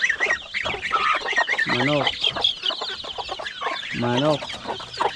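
Several chickens cluck and cackle nearby, with two louder drawn-out calls standing out amid a busy, continuous chorus of fowl.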